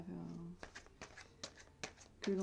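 Oracle cards shuffled for a reading, a run of soft, quick riffling and tapping bursts at close range, alternating with someone speaking.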